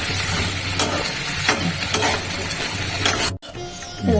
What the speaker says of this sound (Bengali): ভাজা হোক